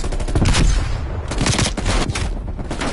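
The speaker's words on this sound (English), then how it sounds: "Flashbang going out." A flashbang grenade goes off in a burst of sharp, loud cracking bangs that repeat over a few seconds, up close with no talk.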